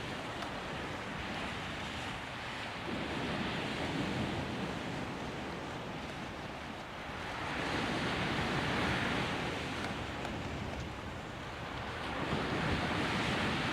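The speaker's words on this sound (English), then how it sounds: "Hopefully the wind drops a little bit." Wind and breaking waves on Chesil Beach's shingle shore, a continuous broad roar of surf swelling and easing in slow surges, with gusts buffeting the microphone throughout.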